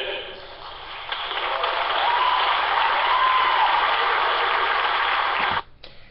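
A convention audience at a state party business session claps steadily, a dense wash of applause that builds and holds for several seconds before cutting off abruptly near the end.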